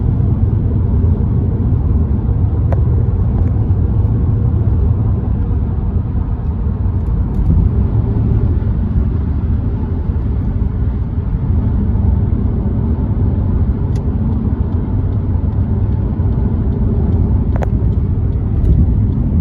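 A big stretch limousine drives along a road and pulls off at an exit, with a steady loud engine and road rumble heard from inside the car and no talk.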